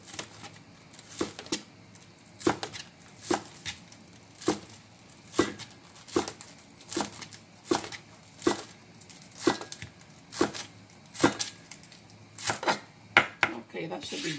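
Green onion chopped with a knife on a cutting board, crisp regular knife strikes roughly every half second, close and distinct, repeating steadily throughout with no talk over them.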